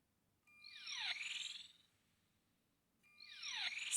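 Motorized pop-up selfie camera on a Huawei P Smart Z phone with a changed sound effect, giving a sci-fi whooshing sweep that rises and falls, heard twice, quiet and close with no talking.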